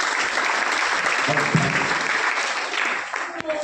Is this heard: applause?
yes